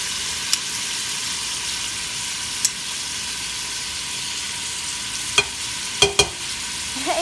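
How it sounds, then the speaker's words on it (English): Garlic fries in a pot with a constant soft sizzle, broken by a few sharp clinks and scrapes of a spoon being stirred through it. "Give it a quick stir."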